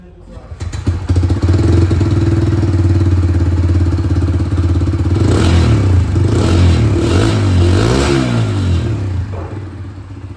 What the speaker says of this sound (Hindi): ये जब सीएनजी से चलेगी तब आप लोग इसकी जो आवाज़ है वो एक बार सुन लीजिए